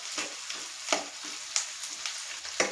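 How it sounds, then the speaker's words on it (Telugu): Sliced onions and green chillies fry in a pan for a bitter gourd curry, with a soft steady sizzle broken by regular scraping strokes of a spatula, close and without speech. "ఆనియన్స్ పచ్చిమిర్చి వేసాక ఒకసారి ఇలా కలపండి"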